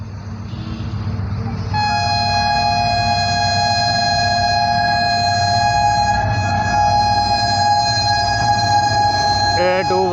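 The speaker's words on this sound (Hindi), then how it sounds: "अच्छी स्पीड के साथ आ रही है। HGMU 30 के साथ 17 अब मिलत एक्सप्रेस।" Millat Express passenger train hauled by an HGMU-30 locomotive arriving at speed at Samanabad railway station, Pakistan, sounding a long, loud, sustained multi-tone horn over a continuous rolling rumble.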